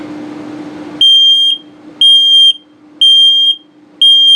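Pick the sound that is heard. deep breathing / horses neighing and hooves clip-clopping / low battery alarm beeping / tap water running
low battery alarm beeping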